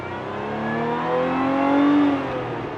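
A British supercharged sports car with a six-speed manual pulls hard from inside the cabin, its engine note climbing steadily while a high supercharger whine rises above it, moderately loud and with no talking.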